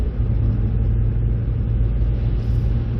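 The 2.7 V6 engine of a 2005 Hyundai Santa Fe Mark I runs steadily with a smooth, low, continuous rumble, loud and close, with no talk over it.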